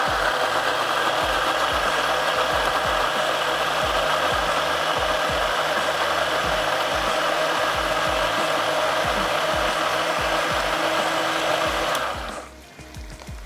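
An electric blender grinds tomatoes in a home cooking show kitchen, a loud, steady motor whir running continuously for about twelve seconds before cutting off abruptly.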